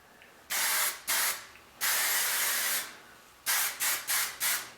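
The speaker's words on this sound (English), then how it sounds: "when you're spraying hairspray, so you don't get that concentrated jet stream" Several hissing bursts of hairspray from an aerosol can, a few longer sprays followed by four quick short puffs, close and loud.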